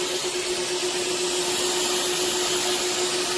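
A Karcher Puzzi 10/1 spray-extraction vacuum cleaner runs while cleaning dirty upholstered seats, a loud steady motor whine with a constant hum and airy suction rush, close and uninterrupted.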